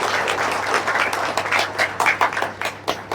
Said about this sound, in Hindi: एक बार फिर अपने लिए ताली बजाइए